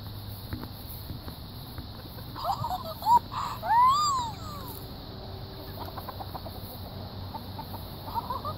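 Chickens cluck and squawk briefly amid quiet outdoor background noise, a few rising calls in the middle and otherwise steady ambient hiss.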